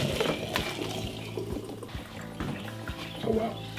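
Pasta pieces drop into a pot of boiling water, giving soft splashes and bubbling with a few sharp knocks, fairly quiet and close with no talk.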